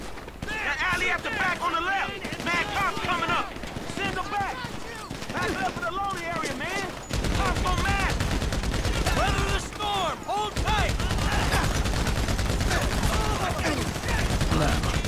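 Rapid bursts of automatic gunfire and single shots crackle in a GTA 5 shootout mission, loud and continuous under overlapping in-game voices and a player talking.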